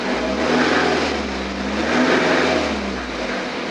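2013 BMW X3 xDrive 20d diesel engine with 196,000 km, suspected timing chain wear, revved in a workshop: a close, loud, steady engine drone that swells twice as the accelerator is pressed, with no talking.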